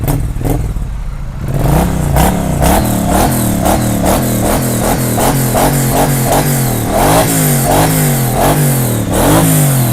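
A 90-degree twin-cylinder motorcycle with its stock exhaust revs hard after a brief quieter start, giving a loud, close, throbbing roar with repeated rising and falling rev surges and a mechanical clatter.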